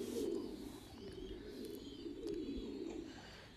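Farmed pigeons kept indoors coo in a low, continuous murmur, with several birds overlapping at moderate loudness and a few faint higher chirps above the steady cooing.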